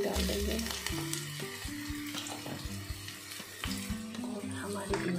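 Garlic and asafoetida sizzle in a spoonful of hot oil for an okra dish, a steady close hiss with clinks and tonal kitchen sounds over it, no talk.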